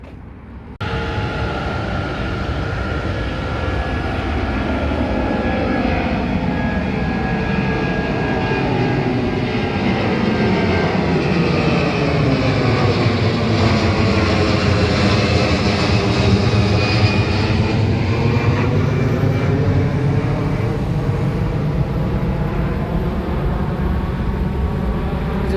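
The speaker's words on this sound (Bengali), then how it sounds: "এগুলো খুব সম্ভবত ল্যান্ড করছে, এখন হচ্ছে টার্মিনালের দিকে যাইতেছে, প্যাসেঞ্জার নামাবে" China Eastern airliners land near an airport and taxi toward the terminal, a steady loud jet engine drone with a slowly shifting whine held for the whole stretch, heard from outdoors with no talking.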